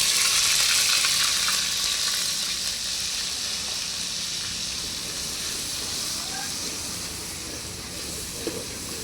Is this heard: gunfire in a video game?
no